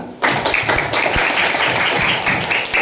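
A fifth-grade class claps in a classroom, a brisk, fairly loud patter of hands starting abruptly and continuing evenly to the end.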